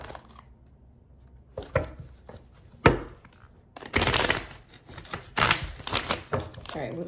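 Tarot cards being shuffled by hand, a few soft riffles and taps early on, then denser bursts of rapid card flicking and sliding from close by, with no talk over it.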